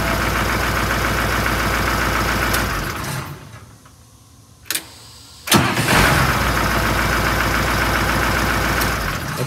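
A bus engine cranks on a new starter motor with a loud, rapid, rhythmic churning, goes quiet for about two seconds, then cranks again just as strongly and steadily, close by and with no speech.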